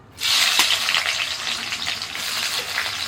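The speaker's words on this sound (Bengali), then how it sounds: "তেলের মধ্যে দুটো শুকনো লঙ্কা দিয়ে দিলাম পেঁয়াজ কুচি" Dried red chillies and chopped onion sizzle loudly in hot oil, a steady broadband frying hiss starting abruptly and continuing with small crackles and stirring scrapes throughout.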